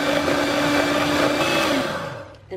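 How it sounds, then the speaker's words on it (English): An electric beater whisks egg whites for a chocolate soufflé, a steady whirring motor hum that runs for about two seconds and then winds down, with no voices. "we need to whisk up our egg whites, which I'm going to use an electric beater for"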